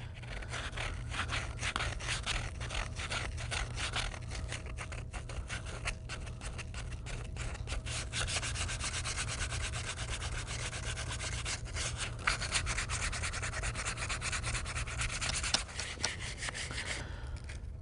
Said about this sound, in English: Let's go ahead and sand the entire body of the dragster.